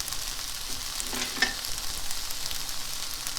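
Kimchi stir-frying over medium heat in a pan gives off a steady soft sizzle, with a brief stirring clatter partway through and no talk.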